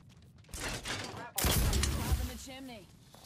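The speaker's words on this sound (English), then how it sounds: "I knew I heard shots over there." Gunfire in Apex Legends: a burst of loud, dense shots erupts partway through and rolls on continuously, with a voice talking over parts of it.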